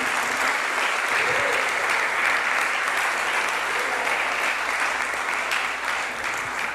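A church congregation claps loudly for Jesus, a sustained, dense applause with scattered cheers that stays strong throughout.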